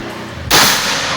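A single sharp shot from a Predator 500cc V2 airsoft gun, one loud close crack that follows a short quiet stretch and then decays.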